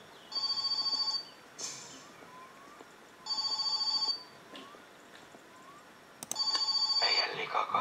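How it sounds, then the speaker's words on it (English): Phone ringing in the video game My Summer Car: three bursts of a bright electronic trill, each about a second long and evenly spaced. The tone is clear and close, with faint background game sounds between the rings. "the phone is ringing"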